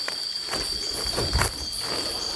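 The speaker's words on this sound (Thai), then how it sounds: "กบดังมากนะ" Frogs croaking loudly at a forest campsite in Thai countryside, a dense, steady chorus of high trilling calls with rhythmic pulses throughout, close and continuous with no talking.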